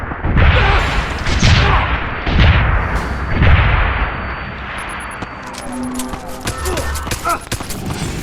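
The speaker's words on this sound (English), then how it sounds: "Stun locked him with a grenade launcher." Grenade launcher fire in Deus Ex: Human Revolution lands as a rapid series of heavy booming blasts, three or four close together, then gives way to a lingering rumble with clanking and beeping game effects.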